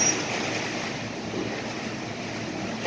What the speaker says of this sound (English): There's a water spout out there.